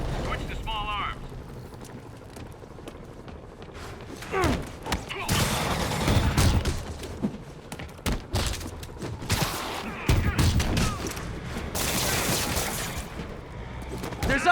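Gunfire and explosions from combat in the Marvel's Spider-Man video game, with bursts of shots, booms and crashes rising and falling over shouted in-game voices.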